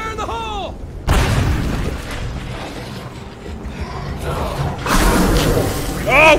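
A thrown grenade goes off in a video game with a sudden loud boom followed by a rumbling tail, another burst coming later, with game noises and a voice around it.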